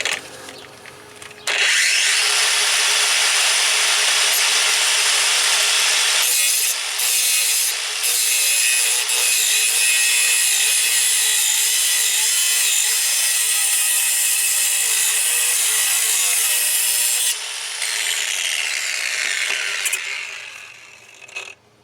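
A power tool cuts through the metal of a turbo housing with a loud, sustained, gritty grinding rasp that runs almost continuously for about sixteen seconds, with a few short dips before it winds down.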